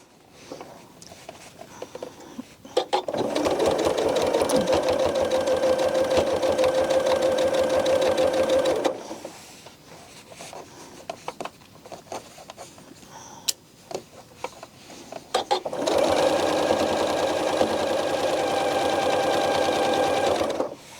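A sewing machine stitches quilt binding with the needle running in the groove of a flange: two long, steady runs of fast mechanical whirring and ticking, loud and close, separated by a quieter pause.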